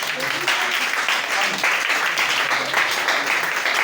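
A church congregation bursts into sustained applause, a dense wash of many hands clapping steadily with a few voices mixed in.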